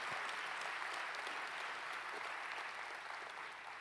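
A church congregation in Londrina applauds in a steady, dense wash of clapping hands that holds for the full few seconds and fades slightly at the end.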